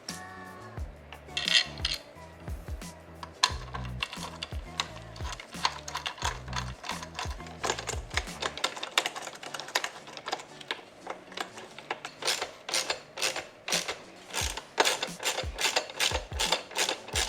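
Exhaust hardware being tightened on an MV Agusta F3 Rosso during an SC Project SC1-R install, a close run of quick metallic ratchet clicks and clinks in bursts, with no talking.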